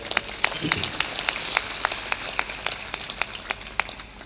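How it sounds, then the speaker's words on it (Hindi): An audience at a spiritual discourse in Ajnas, Madhya Pradesh claps, a thin crowd whose sharp separate claps ring out unevenly through the whole stretch, with a faint voice briefly underneath. "ताली थोड़ा जोर से बजाया करो।"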